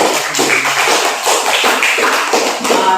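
Class of schoolchildren applauding together, a brief burst of dense, close hand clapping with no talking over it.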